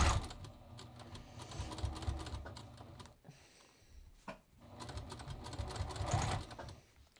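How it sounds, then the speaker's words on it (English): A sewing machine stitches a front fly zipper in quick rattling bursts, pausing briefly between runs, close and moderately loud. "So let me get my machine over here. And I am just going to start stitching"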